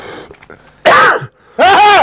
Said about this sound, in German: Jetzt habe ich hier 12 Sekunden gehustet von dir drauf.